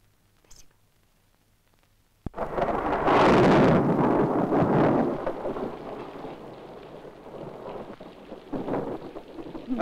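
Heavy rain bursts in after a quiet start and keeps pouring steadily, with a deep rumble of thunder rolling through the downpour.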